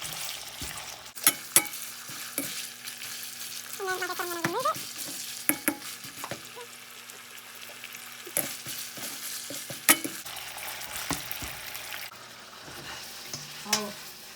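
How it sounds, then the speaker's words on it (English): Beef cooks in a pan while being spread out with utensils, a soft, continuous sizzle broken by scraping and sharp clanks of metal on the pan. "As you can see, the beef is already cooking. I'm spreading it out."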